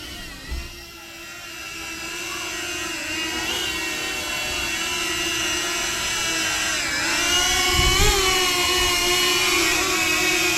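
A DJI Flip drone flying back emits a steady, close, high-pitched whine from its buzzing propellers, growing slightly louder as it approaches, with a brief thump near the start and another near the end.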